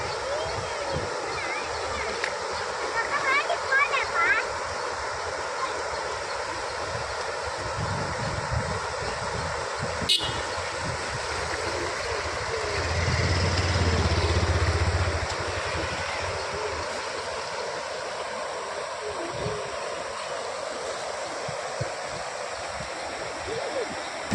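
Floodwater from a breached lake pours through a village in a steady, broad rushing hiss mixed with wind buffeting. A brief sharp knock cuts in midway, and a low thump swells for a couple of seconds.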